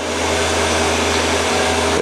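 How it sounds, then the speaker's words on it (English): Compressed air blasts steadily from the automatic tool changer of a scratch-built CNC mill with a spindle near 11,000 RPM, blowing chips off the tools; a loud continuous hiss with a low hum underneath, alone and close. "Now you'll hear the air blast when it comes over here, blows the chips off the tools."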